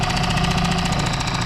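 A Honda 2 hp four-stroke outboard motor idles steadily, its close, even mechanical drone and fast rhythmic chug running without a break at a constant level.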